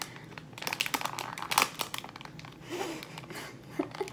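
Plastic blind bag for toys being handled and torn open, a string of crisp crinkles and crackles in bursts, close and fairly quiet, with a brief lull midway.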